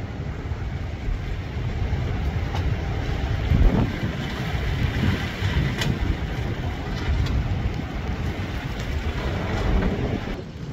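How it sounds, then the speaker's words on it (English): Rain and hail fall steadily through gusty wind after a storm, a dense, continuous hiss and patter with wind buffeting the microphone throughout. "A little bit of rain and hail going on."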